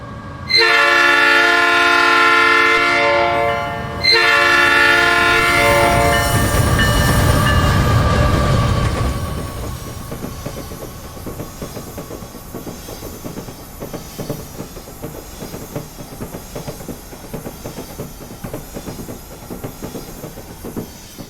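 A doubleheader of two AC44C6M diesel locomotives in a train simulator sounds a loud, sustained chord horn in two long blasts, then rumbles and clacks steadily along the rails as the horn fades out.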